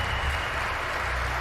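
A large crowd at The International 10 Dota 2 tournament applauds and cheers in a continuous roar that stays steady and loud throughout, with no clear voices standing out.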